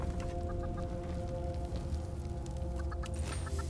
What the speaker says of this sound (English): Do I hear chickens?